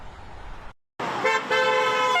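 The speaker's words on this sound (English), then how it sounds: "The chorus of car horns has greeted the nearly 400 members of the OPEIU Local 40" Car horns honk outside a nurses' strike picket line at Henry Ford Rochester over traffic noise, with a brief gap and then sustained overlapping toots from passing vehicles.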